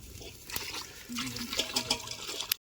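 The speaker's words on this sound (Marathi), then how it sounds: "बघा आता आपण यात पाणी घातलंय" A short burst of water pouring into a pot of spicy Kolhapuri curry on a wood-fired stove outdoors on a farm, splashing and gurgling for about two seconds before cutting off abruptly.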